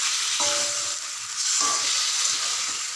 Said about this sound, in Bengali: মাংসটাকে খুব ভালো করে কষতে হবে তেলের মধ্যে।